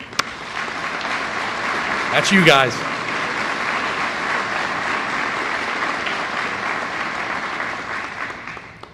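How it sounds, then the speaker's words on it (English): An audience at a fire department recruit class graduation ceremony claps in a sustained, even round of applause that fills the room, with a brief cheer near the start and a voice speaking over it. "Please offer your training staff a round of applause."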